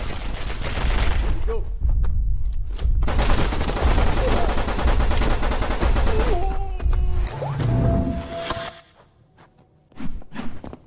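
Shotgun fire in the Killer Bean action game comes as loud, dense bursts of blasts and crashes over a music bed, then drops to near quiet before one last hard hit.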